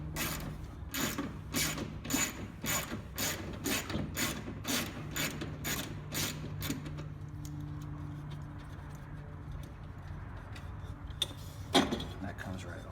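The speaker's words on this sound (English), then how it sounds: "Just get out your wrench here." Ratchet wrench turning a 10mm bolt on the passenger door of a 2008 Chrysler PT Cruiser, a fast series of sharp, evenly spaced clicks for several seconds, then quieter fumbling and a final clack; close and clear.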